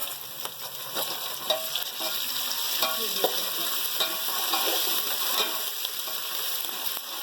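Ginger garlic paste sizzles steadily as it fries and is stirred in a pan, with scraping spoon strokes throughout and a brief spoken remark over it.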